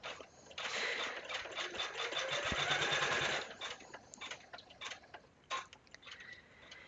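Elna 830L or Janome 550E embroidery machine stitching, a close, rapid mechanical whir with fast regular clicking for a few seconds, then slowing into scattered ticks.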